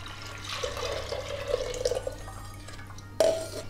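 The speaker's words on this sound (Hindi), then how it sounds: "ये सारा पानी इसके अंदर डाल दूँगी।" Water is poured from a vessel into a pot of cooked dal for Gujarati dal dhokli, a soft gurgling trickle in the kitchen that stops and then resumes briefly, close and alone without talk.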